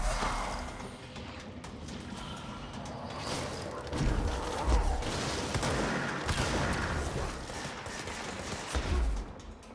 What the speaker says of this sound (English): since I'm shooting at shit